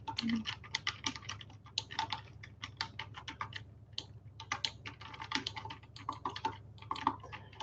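Rapid, irregular keystrokes on a computer keyboard as contact details are entered in an office, a steady close clatter with brief pauses and no talking.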